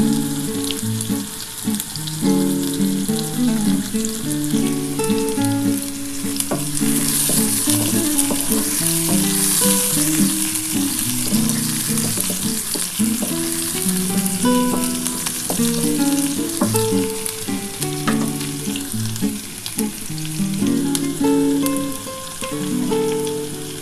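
Sliced onions fry in a pan for a potol posto dish, giving a steady, close sizzle with scattered scraping and stirring noises throughout, and no voices.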